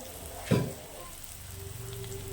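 Goat tripe (vajadi) for Kolhapuri rakti vajadi frying in a pan gives one short, close burst of sizzling, then settles to a low, quiet hiss with a faint hum.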